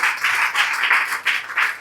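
An audience at a mushaira poetry gathering applauds in a steady stream of claps, pulsing in regular waves of roughly even loudness, with no voices.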